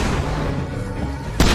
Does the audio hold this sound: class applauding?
no